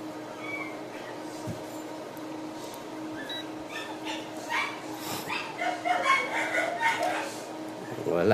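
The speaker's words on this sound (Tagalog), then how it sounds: "tignan mo daw yung mga aso doon, nak. Maingay man." Dogs bark repeatedly in the distance at night, the barks growing busier and louder toward the end over a steady electrical hum and some background talk.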